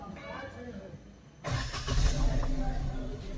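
A Suzuki S-Presso, just after repair of an intake air temperature sensor fault, cranks and fires up with a sudden loud start, then keeps running at a steady rumble. Quiet background sounds come before it.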